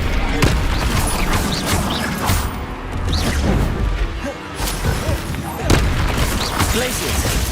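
Confringo fire spell explosions in Hogwarts Legacy gameplay, with repeated loud booming blasts and crashes in a dense, busy combat mix, accompanied by voices throughout.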